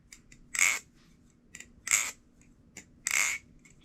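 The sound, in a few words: LDY Orion being handled for a sound test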